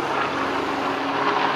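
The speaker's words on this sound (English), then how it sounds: "right as a police helicopter flies above." A police helicopter flies overhead above a former ballpark site in Queens, New York, giving a steady, broad rotor and engine drone that holds level throughout with no talking.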